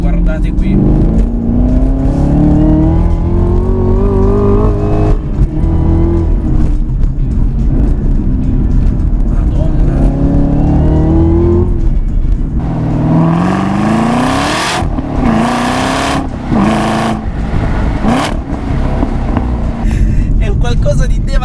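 A supercharged 650 hp Chevrolet Camaro ZL1 1LE accelerates hard in sport mode. The engine roars loudly through rising gear pulls with sharp upshift breaks, and someone talks over it throughout.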